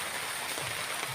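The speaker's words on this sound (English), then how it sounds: "it's starting to rain now" Rain is just starting to fall in the Philippine countryside, a soft, even hiss that is faint and unbroken, with no voices.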